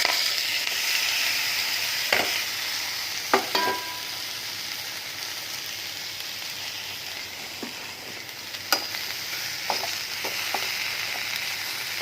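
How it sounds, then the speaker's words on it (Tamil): Spices, turmeric and salt sizzling steadily in hot oil in a frying pan with carrot, beetroot, cabbage and capsicum, with a few sharp clinks and stirring scrapes over the continuous crackle. "தேவையான அளவுக்கு மஞ்சள், சால்ட் தாளிக்கிறேன்."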